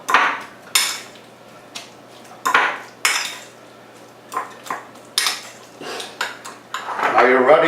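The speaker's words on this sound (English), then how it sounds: "You mix this all up." Onion, pepper and kosher salt being mixed for guacamole in a bowl, with a spoon or utensil scraping and clinking against it in irregular bursts of close, fairly loud stirring.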